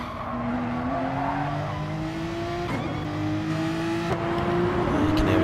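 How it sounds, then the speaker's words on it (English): Porsche race cars lapping Bathurst in the racing game GT Sport, a steady close engine drone whose pitch climbs through the gears with shift breaks and brief tire squeal, alone without talk. "His car is massively short shifting"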